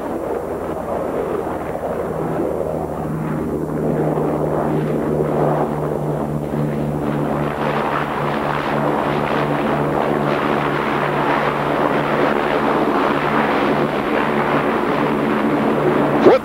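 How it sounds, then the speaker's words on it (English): A propeller airplane at an air show lands and reverses its propellers to stop, producing a loud, sustained roaring drone with a low engine hum that swells midway, heard in the open with wind on the microphone. "go beta on the propellers, reversing the propellers for that minimum ground roll"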